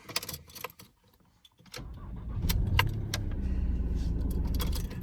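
Keys jingle briefly, a pause, then the engine of a Mk3 Ford Mondeo cranks and catches on a newly cut key, settling into a steady idle close by.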